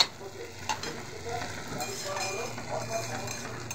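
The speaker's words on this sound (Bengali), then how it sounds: "এটাকে ভাজবো।" Spices seasoned with black salt fry and sizzle in a pan while being stirred, a soft, steady crackle with occasional clinks, close and fairly quiet.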